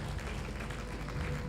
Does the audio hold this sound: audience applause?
yes